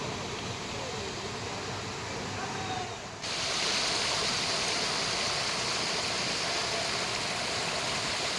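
A waterfall roars as a steady, loud, broadband rush of falling water that becomes brighter and fuller partway through, with no clear speech.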